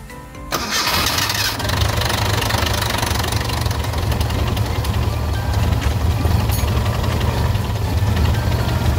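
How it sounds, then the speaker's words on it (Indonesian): The engine of a 1994 Toyota Kijang Super is started after an oil flush and settles into a loud, steady idle with a rough low rumble and a faint knocking texture, close up, with no talk. "Sekarang kita tutup, baru kita panasin mobilnya."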